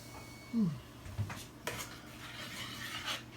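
Porridge being stirred in a pot, with soft scraping and a couple of light metallic knocks of a utensil against the pot, quiet and close with no talking.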